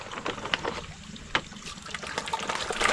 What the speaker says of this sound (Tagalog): Pero kahit mahina yung tubig natin dito, basta flowing, ayos pa rin.